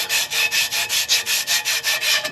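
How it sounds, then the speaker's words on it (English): Emery cloth rubbed back and forth over a steel exhaust pipe end after gasket removal, a rapid rhythmic scraping of about ten even strokes, close and steady with no talk. "we got our emery cloth here"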